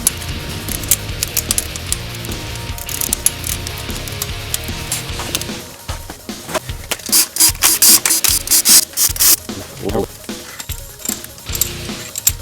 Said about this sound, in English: now we're ready to undo the head studs